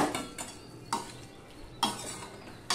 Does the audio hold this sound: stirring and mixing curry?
yes